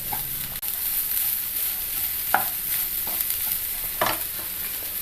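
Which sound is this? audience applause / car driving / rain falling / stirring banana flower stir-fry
stirring banana flower stir-fry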